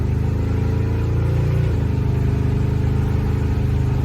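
A 1955 Chevrolet Bel Air with a 409 V8 fed by dual carburetors runs nearby, a steady throaty engine note that rises in a short rev before settling back to a lumpy idle.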